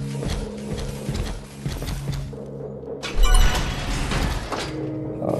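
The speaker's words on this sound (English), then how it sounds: "You can just hear this thing's footsteps." Heavy mechanical robot footsteps in the video game Terminator Resistance, clanking, gear-like thuds in an irregular rhythm amid game noise, with a louder metallic impact partway through.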